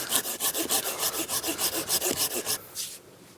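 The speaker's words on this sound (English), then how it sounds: "so left-handed sawing it is" Hand saw cutting through wood, sawed left-handed, about a dozen steady rhythmic back-and-forth strokes, close and clear, before the sawing stops and a brief scrape follows; no talking.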